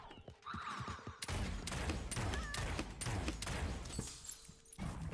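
A rapid burst of gunfire in the game Realm Royale, dense overlapping shots lasting several seconds, loud and close.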